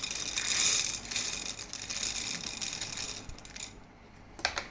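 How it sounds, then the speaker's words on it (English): Coffee beans are poured into a Timemore Chestnut C2 hand grinder, producing a continuous close rattling patter of hard beans on metal that thins out near the end, with a few sharp clicks. "Let me try loading this in grinder with one hand"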